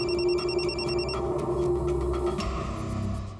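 A telephone rings with a steady, pulsing electronic trill over a dense bed of low background noise, then the ringing cuts off partway through.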